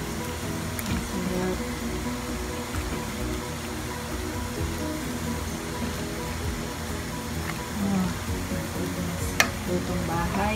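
Malabar spinach (alugbati) is tipped into a pot of simmering vegetable soup and stirred, a soft steady bubbling and swishing with a few light clinks, faint and continuous in a home kitchen.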